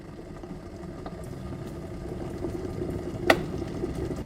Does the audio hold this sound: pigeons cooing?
no